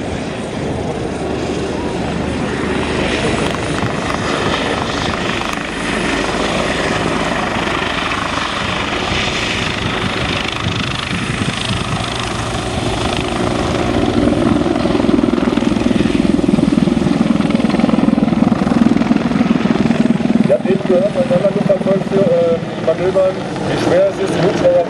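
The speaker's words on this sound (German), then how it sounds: "die EC-145 landet gleich einer schwersten Flugmanöver auf eine ganz kleine Plattform" An EC-145 helicopter comes in to land on a very small platform during a special-forces exercise, its loud turbine whine and rotor throb steady and close, swelling louder in the second half while someone talks over it.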